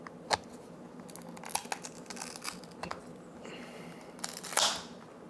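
Prying a Beats Studio Pro ear cushion off its adhesive-lined ear cup makes scattered close-up crackles, snaps and crinkling clicks, with a louder tearing burst near the end.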